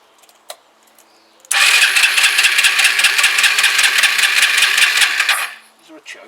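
A Kawasaki BN125 Eliminator motorcycle engine cranks and catches, running loud and steady with a rapid pulsing beat for about four seconds before dying away, after a brief click.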